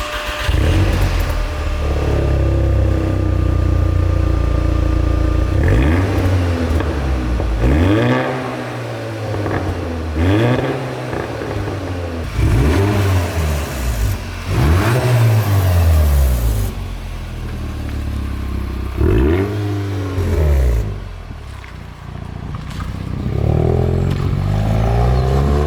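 A V8 engine with a new exhaust after a resonator delete, revved again and again: loud, close, repeated rising and falling throttle blips over a steady idle, with no talking.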